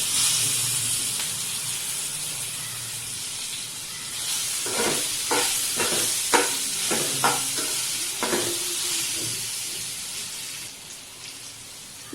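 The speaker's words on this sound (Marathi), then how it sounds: "थोडंसं किसून घेतलेलं आलं पेरूच्या या फोडी टाकून घेऊया" Grated ginger and guava pieces go into a hot pan of oil for guava bhaji, setting off a steady loud sizzle and hiss, with a run of spatula stirring scrapes in the middle, close up with no talking.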